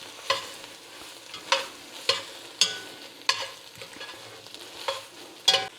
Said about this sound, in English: Mix that in, gonna give it some sweetness.